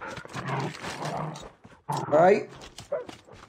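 Attack dogs bark in Call of Duty Mobile, a few sharp, loud barks and yips bursting out between stretches of game noise, with someone talking over them.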